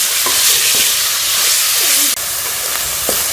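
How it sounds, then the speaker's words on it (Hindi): Loud, steady sizzling of keema (minced meat) frying with ginger-garlic paste in a hot karahi, with a few soft stirring scrapes through the hiss. "कीमे को भी अच्छी तरह से भून लेंगे"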